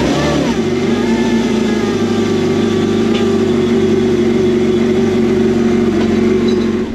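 A supercharged Kawasaki Ultra 310 jet ski engine starts up after a supercharger pulley installation, catching with a short burst and then settling into a loud, steady, close idle hum that holds without pause.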